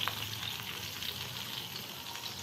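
Butter sizzling steadily in a hot pan while cooking Italian chicken in lemon sauce: a close, even, crackling hiss with small pops throughout.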